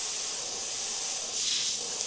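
An airbrush sprays makeup-style paint through a plastic template onto a clown artwork, giving a steady close hiss of air that swells slightly near the end, with no talk over it.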